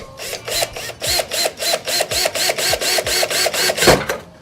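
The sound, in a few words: drilling a pilot hole in a Mustang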